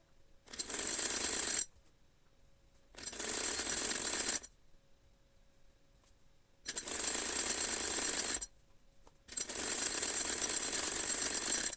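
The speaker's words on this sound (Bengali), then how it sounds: "বাকিটুকু একইভাবে সেলাই দিয়ে নিব।" A sewing machine stitches the cuff section of a hijab in four bursts of rapid, rattling stitching, each a second or two long, separated by short quiet pauses.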